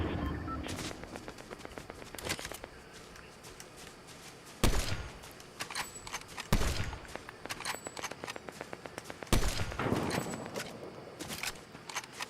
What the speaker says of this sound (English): We got firing off to the east as well